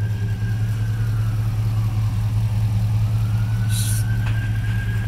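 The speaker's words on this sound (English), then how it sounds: "Well, that's an Impala 2006 SS V8" A 2006 Chevrolet Impala SS with a 5.3-litre V8 idles steadily, a low, even engine drone running unbroken throughout with a faint whine above it.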